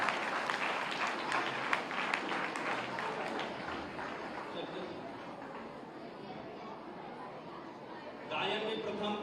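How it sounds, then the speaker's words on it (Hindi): Applause and crowd noise for children receiving prizes at an award ceremony in Gorakhpur, with steady clapping throughout under a busy hall ambience and a brief swell near the end. "तालियां एक बार, तालियां इन बच्चों के लिए।"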